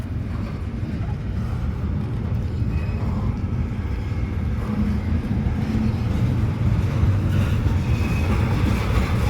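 A freight train pulling hopper cars passes close by with a continuous heavy rumble and rattle, loud and steady throughout.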